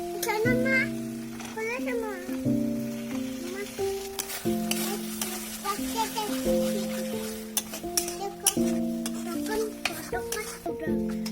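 Peas and potatoes frying in a pan for Bengali-style dum aloo, a steady sizzle with repeated scraping stirs of a spoon against the pan, while people talk over the cooking throughout.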